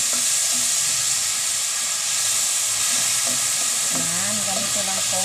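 Bangus (milkfish) sticks frying in a pan sizzle loudly and steadily as soy sauce is added, a constant hissing crackle with a brief low voice near the end.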